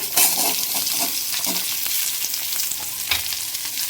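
Onion tossed in with garlic crackles and sizzles loudly in a hot pan, a dense continuous fry with a few stirring knocks, close by and unaccompanied by talk.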